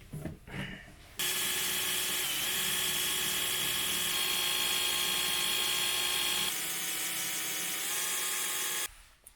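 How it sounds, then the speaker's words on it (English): A powered tap tool cuts an M4 thread into an aluminium heatsink for a PV combiner box, giving a steady, high-pitched whirring drone that runs for about eight seconds and then stops abruptly, with no talking. "Use this tool to make some M4 thread so we can attach the anti-flowback diode to the heatsink."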